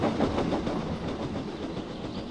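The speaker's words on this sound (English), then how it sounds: "All he could do was watch the trains rushing through the other tunnel." Trains rush through a tunnel in a steady, dense roar with a faint rhythmic clatter of wheels, loud and continuous throughout.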